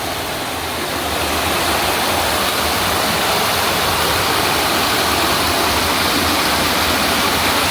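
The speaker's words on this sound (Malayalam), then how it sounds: "ഇതിൻ്റെ തൊട്ട് അരികിലൂടെ ഇതുപോലെ വെള്ളം ഒഴുകി വന്നിട്ട് നല്ലൊരു വെള്ളച്ചാട്ടം രൂപപ്പെട്ടിട്ടുണ്ട്." Kuruthikuzhi waterfall fed by flowing stream water, a loud, steady broadband roar that fills the whole stretch without pause, close and continuous with no voices.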